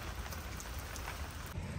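Steady rain pours down outdoors during a workout, a dense, even hiss of drops that stays loud and unbroken throughout, with no voices.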